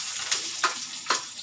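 Onions sizzling in a pan for adobo, a bright steady hiss with three quick spatula scrapes, close and fairly quiet, no voices.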